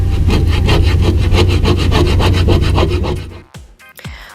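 A dinghy floor is roughed up by hand for re-gluing after a failed two-part epoxy repair, a fast rhythmic rasping scrape repeated steadily and close, then stopping abruptly with a few faint clunks at the end.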